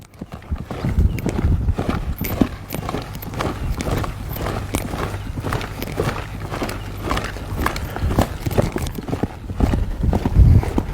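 Horse hooves clip-clopping in a quick, steady rhythm on hard ground, close by and continuous, with a brief louder thump near the end.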